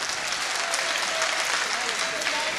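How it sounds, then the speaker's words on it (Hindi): Applause from an audience at a mushaira poetry gathering in Bhiwandi, a steady dense clatter of many hands clapping throughout, moderately distant and even. "एक बार जोरदार ताली आप रूपेश भाई की तारीफ के लिए बजा दें।"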